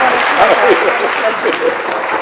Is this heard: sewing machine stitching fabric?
no